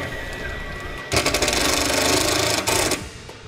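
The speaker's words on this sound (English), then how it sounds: "just going to use a 1/4 inch self-tapping screw" A power drill drives a 1/4 inch self-tapping screw into a trailer fender, a sudden loud buzzing whir lasting about two seconds with a brief stutter, then winding down.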